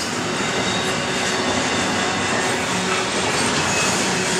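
A Norfolk Southern freight train rolls through Crewe yard with a locomotive at the far end, producing a steady, loud rumble of wheels on rail that holds evenly for a few seconds.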